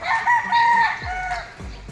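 A gamefowl rooster crows loud and close at a game farm, one long drawn-out call, with another bird's call and a few low thumps near the end.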